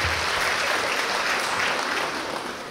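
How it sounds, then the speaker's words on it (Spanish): Wedding guests at a reception meal in Santiago Cuixtla, Nopala, applaud the godparents, a dense, steady clapping from a room full of people that carries on throughout and tapers slightly at the end. "Fuerte los aplausos, por favor, para los padrinos de velación."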